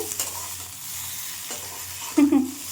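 Squash and pabda fish curry being sautéed in a pan, soft sizzling under a few spatula scrapes and stirs, a louder stir near the end, close up with no talk.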